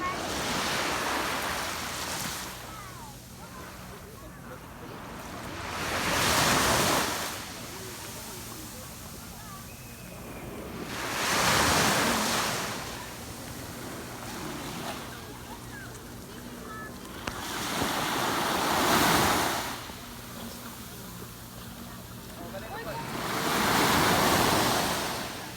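Ocean waves break on the beach at Saud, Pagudpud, swelling and crashing roughly every five to six seconds over steady wind and surf hiss, with voices talking faintly in the background.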